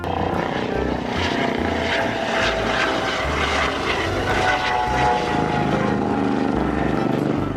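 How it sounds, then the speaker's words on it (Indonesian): A helicopter flying nearby gives a loud, steady roar of rotor and engine noise that fills the whole stretch without a break. "lihat ini teman-teman, ada helikopter."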